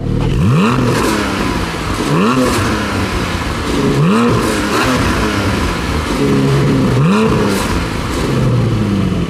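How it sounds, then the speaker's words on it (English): A loud 2020 Porsche Cayman GT4 flat-six engine revs repeatedly in sport exhaust mode, rising in pitch with each blip of the throttle and crackling through a raspy exhaust. "Take a listen to this engine in sport exhaust mode."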